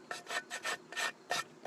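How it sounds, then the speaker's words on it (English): A small sanding block rasps back and forth over a spray-painted metal bundt pan, six or seven short, even scrubbing strokes close up with no talking. "I've just got a little sanding block here. And see, I'm just gonna kind of rough it up."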